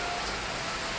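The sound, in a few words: heavy rain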